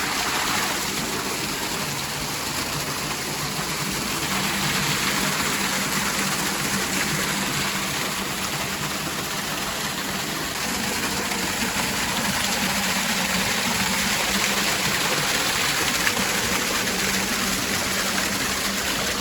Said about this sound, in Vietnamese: Em test con máy bơm tự chế sử dụng pin phổ thông 21V này.